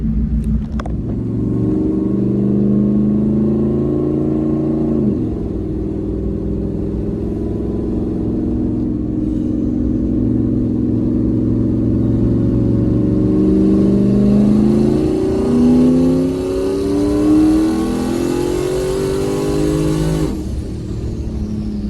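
Single-turbo 2017 Ford Mustang GT V8 on 91 pump fuel, loud and close, rumbling steadily then rising through a couple of revving pulls with climbing engine pitch and a sharp cut near the end; no talk.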